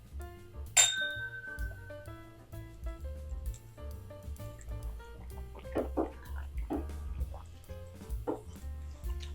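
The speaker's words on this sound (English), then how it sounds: "So cheers to you out there." Glasses clink in a toast before tasting Larceny B525 barrel proof bourbon, one bright ring near the start followed by softer clinks and handling noises over a low background hum.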